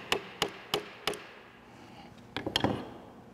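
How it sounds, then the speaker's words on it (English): Hammer tapping a metal riflescope ring to seat it: four evenly spaced sharp taps, a pause, then a quicker cluster of lighter taps, close and clear in a quiet room. "use my hammer."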